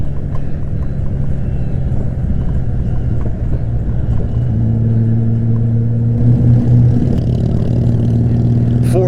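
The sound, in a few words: Honda Goldwing 1500 motorcycle riding through twisties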